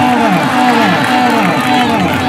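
A crowd at an open kabaddi match in Pakistan claps and cheers in a dense, continuous roar, with a commentator's amplified voice chanting over the noise throughout.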